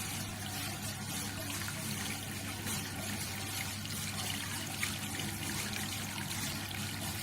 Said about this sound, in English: that's the outlet water that comes from the condenser